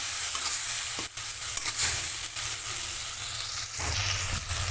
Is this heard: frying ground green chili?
yes